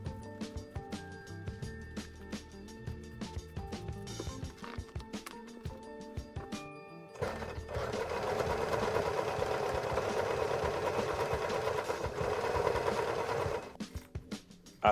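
A sewing machine stitches fabric patches together for a DIY garment, first in short rhythmic bursts and then in one long continuous run, heard close and alone.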